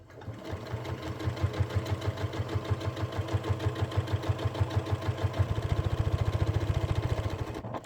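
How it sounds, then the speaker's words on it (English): A sewing machine stitches a notebook cover in a fast, even mechanical rhythm of needle strokes, running close and loud throughout, with a slight change in pace partway through. "So we're going to start sewing."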